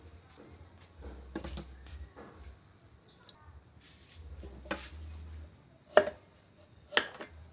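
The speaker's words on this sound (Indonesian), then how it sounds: "Kita iris tipis-tipis ya" A knife thinly slicing shallots on a cutting board, a few sparse, soft cuts and sharper taps spaced irregularly, quiet and close, with low background rumble.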